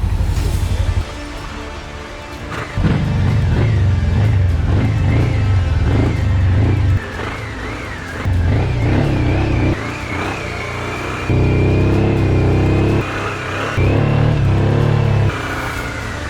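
Motorcycles ride through a village in Nigeria, their engines loud and close, surging and easing repeatedly as the riders throttle up and back off, with steady rushing wind and no voices.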